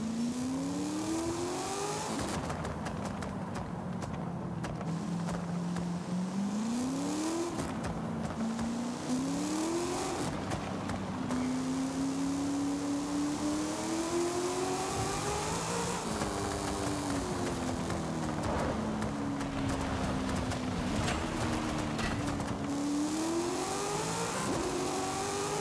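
Pro Stock Camaro drag car from Forza Horizon 5 revving loudly and steadily, its engine pitch climbing and falling through repeated throttle surges and gear changes, with no voices over it.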